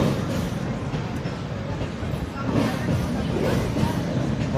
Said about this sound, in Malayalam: ട്രെയിൻ കടന്നു പോകുന്നുണ്ട്.